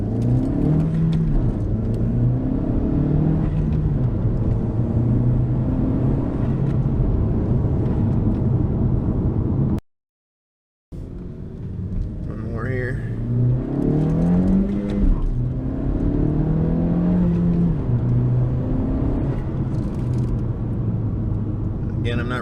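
Tuned car accelerating hard in first gear with a slow-spooling turbo, engine tone rising loud and close from inside, cut by a brief silent gap, then building again through further revving sweeps.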